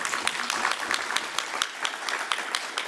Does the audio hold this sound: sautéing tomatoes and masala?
no